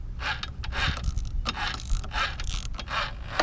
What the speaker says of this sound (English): I'm just using a small ratchet